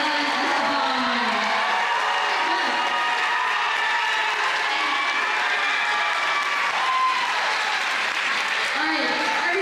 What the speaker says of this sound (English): let's give a huge round of applause to our volunteers, Jesse, Sam, Elliot, and Esteban